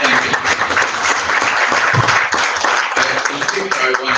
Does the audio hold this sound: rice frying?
no